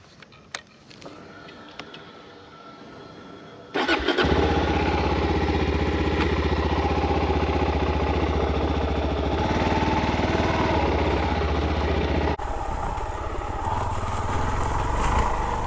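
A Suzuki DRZ-400S dual-sport motorcycle fitted with a Tusk windshield and adventure gear starts after a few faint clicks, then its single-cylinder engine runs loud and close, with a steady throb and a shift in tone near the end.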